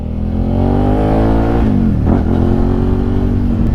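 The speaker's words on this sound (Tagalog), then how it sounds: "dinig na natin yung tambucho ng motor" A steady, loud engine drone with a brief dip and rise in pitch as the throttle changes, heard close up with no talking.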